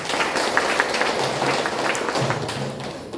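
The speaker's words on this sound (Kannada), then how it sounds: "ಚಪ್ಪಾಳೆ ಹಾಕ್ತೀರಿ ನೋಡೋಣ" An audience at a Brahma Kumaris International Yoga Day gathering in Bagalkot claps together, a dense, steady patter of many hands, moderately loud and continuous, tapering slightly at the end.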